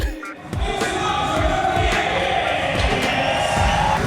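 Crowd cheering and shouting at a BMX contest, the Simple Session 25th anniversary event, a dense steady roar of many voices sustained throughout with rising yells.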